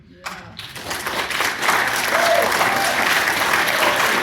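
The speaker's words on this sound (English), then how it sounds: "do we hold off on the applause?" Audience applause breaks out at a Los Angeles City Council District 4 candidate debate, a dense wash of many clapping hands that swells within the first second and holds loud and steady, with voices faintly mixed in.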